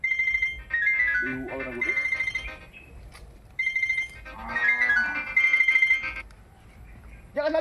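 A cellphone ringtone plays loudly in repeated melodic bursts with short pauses between them, while someone speaks over and between the rings.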